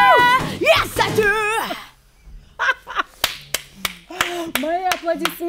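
A few people clap sharply by hand after a vocal performance at a singing master class, sparse irregular slaps following a voice, with talking and laughter between the claps.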